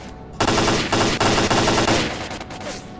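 Rapid bursts of automatic gunfire rattle loudly in the video game S.T.A.L.K.E.R.: Clear Sky, several sustained volleys in quick succession before fading out.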